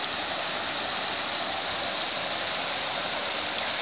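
Steady rushing river water at Hawks Mill Lock in the Gipping Valley flows continuously, a broad, even roar with no pauses, fairly close and loud throughout.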